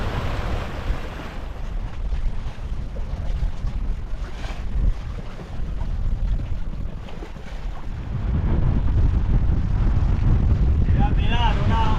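Steady trade wind gusting across the microphone while a sailboat crosses the open Caribbean sea, broadband rushing roar with waves and water under the hull, growing louder near the end, with a faint bird-like chirp late.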